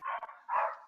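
Pet dog barking twice in quick succession while acting up, fairly muffled and distant-sounding, with no talking over it.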